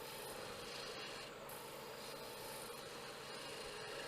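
A wooden finial held without a chuck spins on a lathe while a tool cuts it into a taper, giving a steady, continuous scraping hiss at low level that never pauses.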